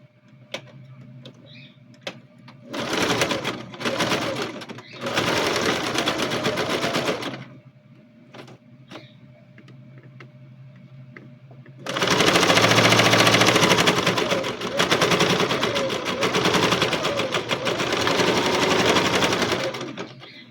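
A sewing machine stitching a seam on a child's backpack, running in short bursts and then a longer steady run of fast, loud mechanical rattling, with quiet pauses between.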